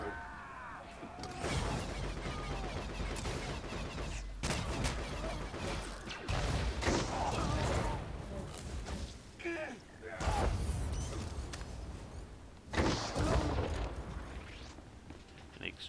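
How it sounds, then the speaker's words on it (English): Chain explosions from the video game Star Wars The Old Republic, several loud crashing blasts spaced a few seconds apart over rumbling game background. "An explosion that triggers another explosion."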